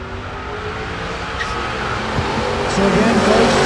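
A Ford Mustang and a Pontiac G8 drag race at Tulsa Raceway Park, engines roaring louder as they build, with tires briefly squealing and a track announcer talking over the noise.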